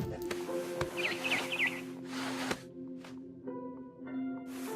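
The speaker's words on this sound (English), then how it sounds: "Then I heard chirping outside my window. It was a barn swallow going back to her nest." Barn swallow chirping in the video game What Remains of Edith Finch, a brief run of quick high twittering notes over a low droning game background with soft rustling noise.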